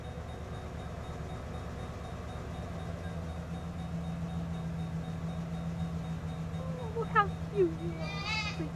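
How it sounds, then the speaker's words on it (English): A goat bleats a few times near the end, loud and close, over a steady low rumble of a vehicle or engine; voices are heard in the background. "We got a goat."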